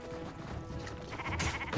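A sheep in a roguelike deckbuilder video game bleats briefly and close, its wavering cry sitting over busy game background sound.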